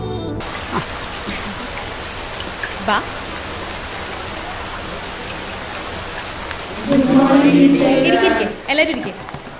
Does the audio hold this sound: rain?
yes